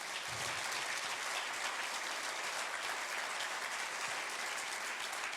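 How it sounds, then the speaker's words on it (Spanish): Church congregation claps for the Lord during a sermon, a continuous broad roar of applause from many hands, even in loudness throughout, with no voices on top. "Yo le daría un aplauso al Señor por eso."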